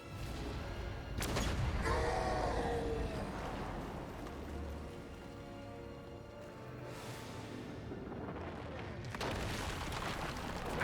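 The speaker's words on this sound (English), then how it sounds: "Flashbang." A flashbang in the video game Darksiders III goes off with a sharp bang followed by a ringing, booming swell. The sound fades out slowly under a steady rumbling background, and a second surge comes near the end.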